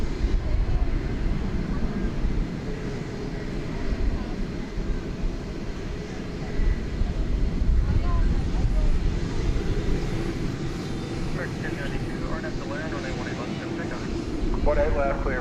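A jet airliner at DFW Airport rumbles at a distance, a low, steady engine roar lasting throughout, with people talking over it.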